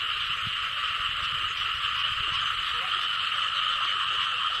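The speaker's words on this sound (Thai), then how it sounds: "เสียงกบเสียงเขียนห้องสนั่นเลย" A dense, steady chorus of frogs croaking loudly and continuously in a rice field on a morning after overnight rain, blended with high insect-like trilling, filling the whole outdoor soundscape.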